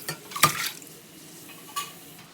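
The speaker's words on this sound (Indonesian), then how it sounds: "Biar cepat mendidih kita tutup ya." A metal lid is set onto a pot of fish broth on a stove, giving one sharp clatter with a short ring, between fainter kitchen clinks, near and without talk.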